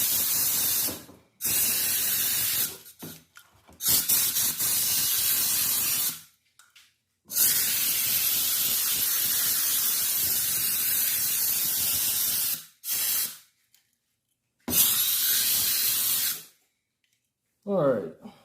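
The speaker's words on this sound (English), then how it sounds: "I'll go ahead and use some shop air." Compressed shop air hisses loudly from a blow nozzle, cleaning dust off a sublimation tumbler blank in long steady bursts separated by brief gaps, close and continuous, with no talk.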